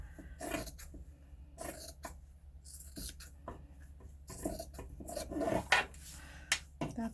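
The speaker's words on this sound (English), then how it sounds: "I'm going to cut some of the excess out" Scissors cutting excess paper while trimming pages for a junk journal, several short snipping and rustling bursts spread irregularly across the clip, fairly close and quiet.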